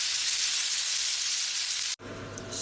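Chicken frying in a large pan of oil gives a steady, loud broadband sizzle for about two seconds, cuts out abruptly, then resumes as a softer crackling sizzle.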